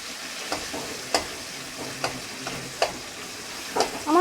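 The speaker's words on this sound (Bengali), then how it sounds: "টমেটোটা ভাজা ভাজা হয়ে গেছে মোটামুটি" Tomato frying in a pan, a low sizzle broken by sharp, spaced knocks and scrapes of a spatula stirring, close and fairly quiet.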